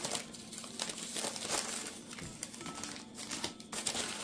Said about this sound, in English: And I'm putting all my tea bags in here.